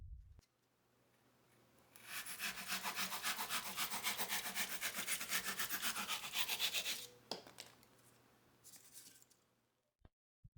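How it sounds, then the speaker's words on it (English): Rapid, steady back-and-forth rasping of a coping saw cutting wood for several seconds, close and clear, followed by a few light knocks. "A coping saw works well for sawing off small or awkward pieces and for rounding corners."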